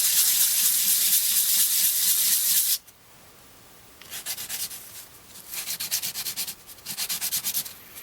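Fine 400-grit sandpaper rubbing a ring made from a silver spoon: one long steady hiss of sanding, a short pause, then several brisk back-and-forth strokes, close and clear.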